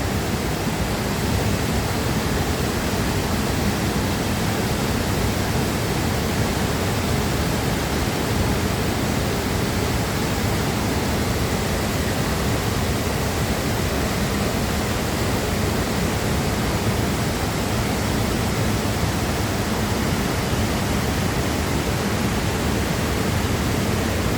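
Tad Ton waterfall pours steadily, a dense, even roar of falling water that stays loud and unchanging throughout, with no other sounds standing out.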